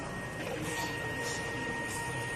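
A printer whirs steadily through a print head cleaning cycle, a constant close mechanical drone with faint shifting swishes and no speech.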